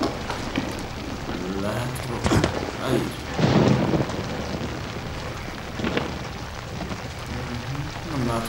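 Rain in the horror video game Outlast patters steadily throughout, with low rumbles and a few louder bursts, and someone speaks briefly over it.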